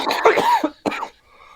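Several harsh coughs close to the microphone, a rough burst followed by another short cough, then quiet.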